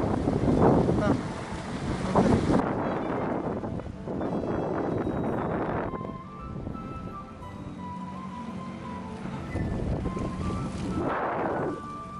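A motorboat speeds across open sea, its engine droning under heavy buffeting wind on the microphone and rushing spray, with surges of wind noise rising and falling throughout.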